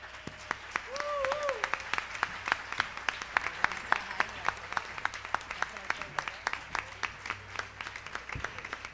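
Audience applause at a live orchestra concert, a steady wash of clapping that runs the whole stretch, with a voice talking over it.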